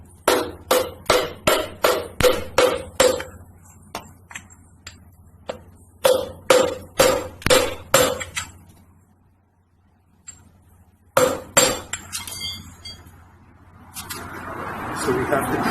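A hammer strikes a 35mm socket to drive a pitman arm oil seal into a power steering box, giving rapid runs of sharp metallic blows in three bursts, loud and close, with a quiet pause partway through.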